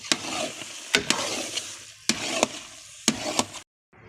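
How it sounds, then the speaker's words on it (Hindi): Carrot halwa with cardamom stirred in a pot, a few sharp spoon scrapes and knocks in an uneven rhythm over a soft frying hiss, close and loud, ending in sudden silence. "अब हम इन सारी चीज़ों को कर लेंगे अच्छे से मिक्स।"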